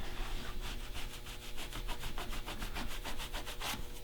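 Residue rubbed off the skin of a deer head mount during taxidermy finishing, a fast, regular back-and-forth rubbing, steady and close with no talk.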